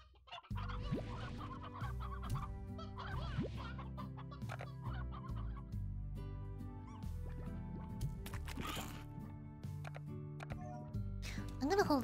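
Hens clucking in the video game Slime Rancher, repeated clucks and squawks scattered over game sounds and music, with a person talking.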